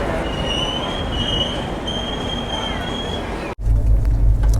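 Express train pulling out of Kacheguda railway station, steady rolling rumble with a sustained high wheel squeal, then a sudden cut to a louder, deeper low-frequency roar near the end.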